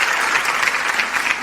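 A crowd in a radio studio claps steadily, the applause dense and close and continuing without a break.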